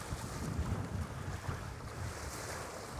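Steady rushing wind and water spray while windsurfing upwind on a fairly flat sea, a continuous close-up roar of wind buffeting the microphone over hissing water with no voices.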